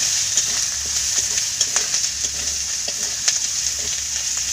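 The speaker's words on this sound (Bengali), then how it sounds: "ভালো করে নাড়াচাড়া করে নিব।" Ground spices including Kashmiri chili, coriander, cumin and turmeric fry with fried onion in a pan, a steady loud sizzle with scattered scraping clicks of stirring, close up and with no voices.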